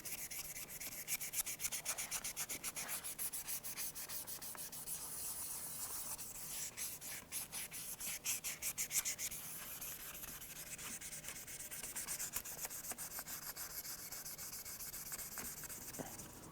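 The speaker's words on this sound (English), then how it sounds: "I'll just take the same sandpaper and use my fingers as a backing block." 3M flex sandpaper, backed by fingers, is rubbed over the back of a guitar neck and peg head in steady, soft, close back-and-forth strokes with no talk.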